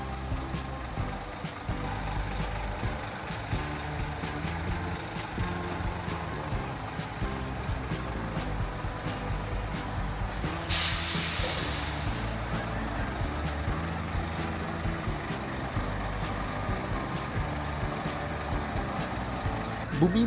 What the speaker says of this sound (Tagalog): ibababa na nila ang chassis gamit ang truck mounted crane.